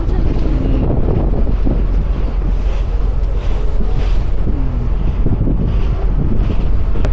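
Strong wind buffets the microphone by the sea near a river mouth at a coastal wildlife sanctuary, a loud, continuous roar with surging gusts and waves underneath, and faint voices now and then.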